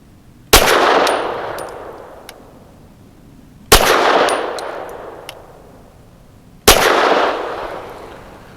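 A Walther PDP Match steel-frame pistol fires Hornady Critical Defense Light 100-grain rounds: three loud single shots about three seconds apart, each followed by a long ringing decay with a metallic clang.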